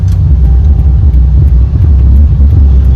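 Road traffic rumbles loud and continuous on a busy street near a no-entry turn, a dense low engine drone with no voices.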